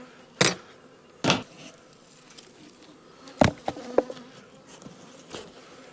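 Honeybees buzz close by at a weak colony's backyard hive during a spring inspection, with a low background hum broken by several sharp knocks and bumps from handling the hive.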